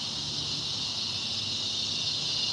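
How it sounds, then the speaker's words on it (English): Loud cicadas drone in a steady, unbroken high-pitched buzz outdoors, constant at close range throughout with no other sounds. "these cicadas are loud"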